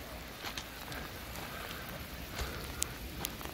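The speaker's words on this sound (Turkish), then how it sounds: "Şu an yağmur var." Rain patters steadily on a vehicle rooftop tent nearby, a dense crackle of drops with a few louder individual hits standing out.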